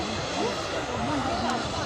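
Over a flooded field another helicopter approaches, its continuous engine drone holding level throughout with a faint whine riding on top, heard alone without voices.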